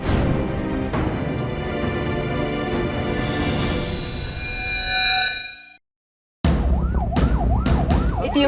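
A loud ambulance siren heard from inside the vehicle as it rushes a man to hospital through flooded areas. A long, sustained wail fades into a brief silence, then a fast warbling siren resumes up close.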